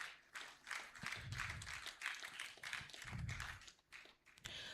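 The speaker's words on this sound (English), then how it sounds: "A round of applause." An audience at a national conference on democracy and elections claps for a keynote speaker, with scattered, uneven clapping that swells and fades, faint and somewhat distant in a large hall.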